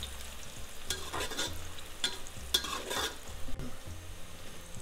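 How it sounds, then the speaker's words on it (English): Onions with bay leaves browning in a pan for chicken curry, a steady close sizzle broken by several bursts of scraping as a utensil stirs them. "Keep browning the onions. The onions have to be like dark golden,"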